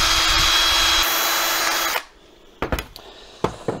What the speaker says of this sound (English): I'm just going to get the wire wheel onto that and just give it a little bit of a tickle with that